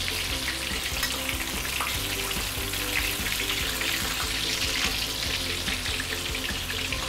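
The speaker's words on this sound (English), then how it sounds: "I'm going to let this this side fry for about 2-3 minutes" Tofu frying in a pan for a fishhead stew, a dense, steady sizzle and crackle of hot oil running continuously at close range with no talking.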